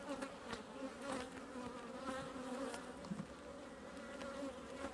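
A dense, steady hum of honey bees swarming around an opened backyard hive, close and constant for the whole stretch with a few brief louder passes of single bees near the ear.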